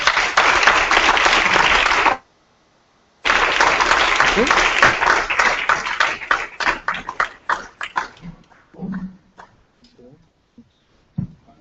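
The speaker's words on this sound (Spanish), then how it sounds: "Un aplauso para él, por favor." Applause from a TEDx talk audience welcoming a speaker, a dense sustained wash of clapping that breaks off briefly, resumes, then thins into scattered claps and fades out.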